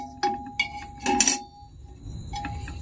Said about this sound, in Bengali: এখন আমি প্রেসার কুকারের মধ্যে একটি স্ট্যান্ড দিয়ে দিচ্ছি।